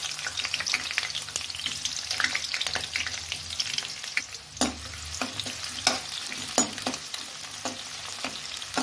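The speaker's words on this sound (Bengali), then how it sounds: "পেঁয়াজটা আমি হালকা লাল করে ভাজবো" Sliced onion sizzling and frying in oil with a little black cumin, stirred now and then. A steady crackling hiss runs close and continuous, broken by soft scraping stirs, with no voices.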